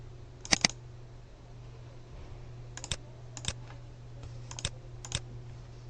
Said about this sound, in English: And this time I'm going to type a different password